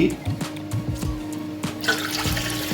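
Water runs and splashes into a pot for a few seconds to make chicken stock, a voice speaking briefly at the start.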